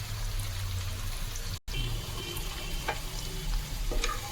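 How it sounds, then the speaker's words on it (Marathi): Onions frying in a pan at home, a steady close sizzle with crackling and occasional stirring scrapes, broken by a brief silent gap, with no talk. "तर आपण कांदा फ्राय करूया"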